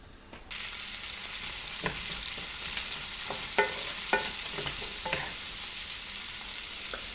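Ground beef browns in a pot over medium-high heat for chili con carne, a continuous sizzle that starts abruptly and carries on with scattered clicks and scrapes of stirring, no talking.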